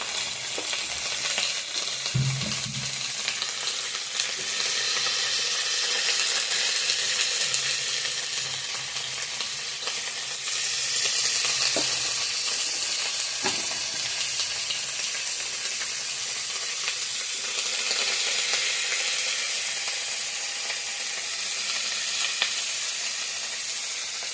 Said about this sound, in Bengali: হালকা করে ভেজে নেব এটা তেলের মধ্যেই